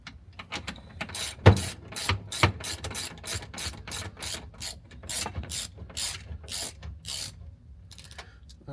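Ratchet tightening a bolt while installing a turn signal kit on a CFMOTO U10, a long run of sharp, rapid clicking strokes at close range, with brief pauses between bursts.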